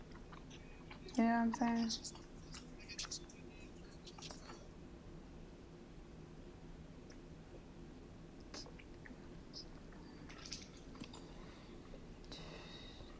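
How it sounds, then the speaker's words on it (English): Someone chewing Hot Chews candy gives faint, soft wet mouth clicks and smacks scattered through a quiet stretch, with a short burst of speech near the start. "I'm chewing hot chews."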